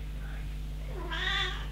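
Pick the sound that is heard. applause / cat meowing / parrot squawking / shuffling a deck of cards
cat meowing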